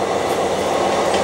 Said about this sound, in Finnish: Tuli niin puun takaa se juna, niin ei ehtinyt nähdä.